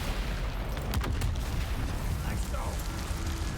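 Sustained heavy-weapon fire in the video game Dune Awakening, a dense rumbling fusillade of rapid shots with low booms, continuous and loud throughout.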